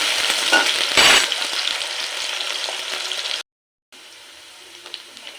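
Potatoes fry in hot oil in a pan, a loud, close, crackling sizzle with stirring that cuts to brief silence, then resumes at a lower level.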